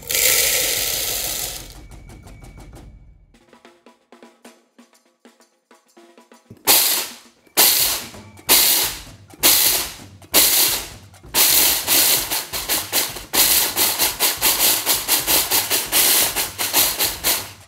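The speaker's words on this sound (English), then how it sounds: "we're going to pour it into this food processor. We're just going to break the black-eyed pea up." A food processor chops black-eyed peas in a series of loud, rapid grinding pulses, with a brief quieter stretch of rattling near the start before repeated bursts of whirring.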